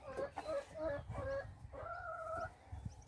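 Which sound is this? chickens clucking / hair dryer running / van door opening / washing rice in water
chickens clucking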